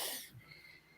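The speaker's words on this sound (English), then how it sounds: "that is my husband coughing." A man coughs at close range, a single harsh burst at the start that fades into quieter breathy rasps.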